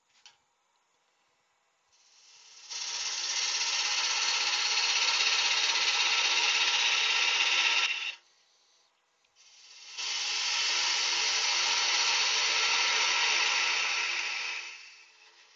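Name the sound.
wood lathe turning a tenon with parting tool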